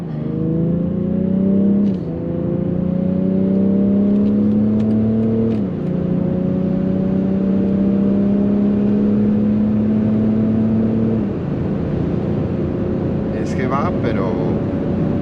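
A BMW X4 M performance SUV accelerates flat-out on a wet German autobahn in light traffic, its engine note rising steadily through the gears with brief shift dips, loud and close from inside the cabin.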